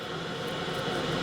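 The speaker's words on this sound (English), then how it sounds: "You can probably hear the kettle boiling in the background because we're about to make the gravy." An electric kettle boils nearby in a home kitchen while gravy is being made, giving a steady, even rushing roar with no pauses.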